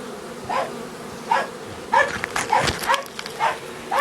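Honeybees at a hive during an end-of-season check, giving a steady low buzz with individual bees zipping past close by in brief louder swells.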